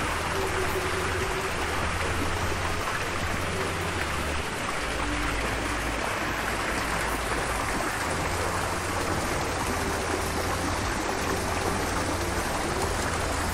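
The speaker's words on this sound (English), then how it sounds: "overlooking a little pond with waterfall" Small waterfall pouring into a lily pond in a Thai park garden, a steady broad rush of falling water that stays even and close throughout.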